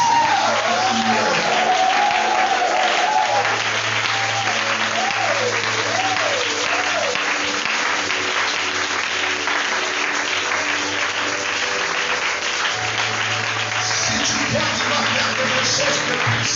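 A church congregation applauds loudly and steadily at a worship service, sustained clapping from a crowd over music, with a voice speaking over it.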